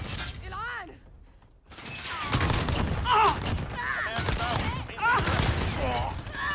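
Shotgun blasts in a first-person video game, several loud sharp bursts with shattering impacts, mixed in with a voice talking excitedly over the action.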